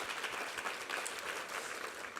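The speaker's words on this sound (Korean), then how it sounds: "우리 하나님께 감사와 영광의 박수 올려드리겠습니다." Church congregation applauding after a sermon reading, a steady wash of many hands clapping at moderate distance, filling the room evenly for a couple of seconds with no voices over it.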